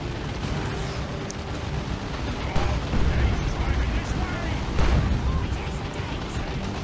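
Dawn of War 2 battle with a looted tank firing boom shots: heavy booming explosions over continuous artillery-like rumble, two stronger blasts standing out, with a commentator talking over the fighting.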